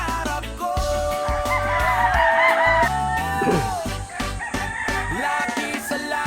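Roosters crow repeatedly and chickens cluck around a gamefowl farm holding young stags, the calls overlapping and fairly close in a busy, loud chorus.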